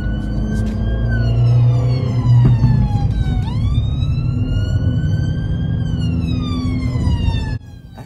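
An ambulance siren wails loudly with rising and falling tones over a steady engine rumble, sweeping down then back up midway, in Tottenham.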